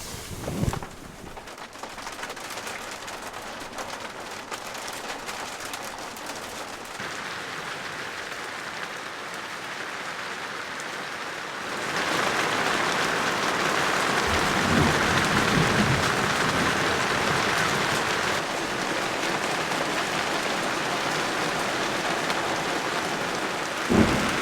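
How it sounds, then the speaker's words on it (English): Heavy rain drums on a sailboat at night during a thunderstorm, a constant hiss with low rumbles of thunder. The downpour grows noticeably louder partway through and stays intense, with occasional sharp knocks close by. "Here comes the storm."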